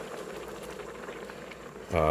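About 1.5 cups of cold water boils in an Instant Pot for rice pilaf, a steady bubbling hiss close by that fills the short clip, with a brief brighter tonal sound entering at the end.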